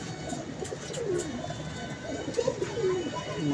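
Roller pigeons coo repeatedly in soft, throaty rolling calls, fairly close, over a steady background hum.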